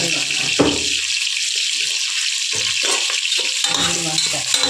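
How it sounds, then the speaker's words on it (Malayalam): Onions sautéing with salt in hot oil and ghee for a mushroom biryani, a steady loud sizzle running throughout with occasional stirring clatter, no talk. "ഉള്ളി വറുക്കാൻ വേണ്ടിയിട്ടാണ് ഇപ്പം നമ്മൾ ഉപ്പ് ചേർക്കുന്നത്"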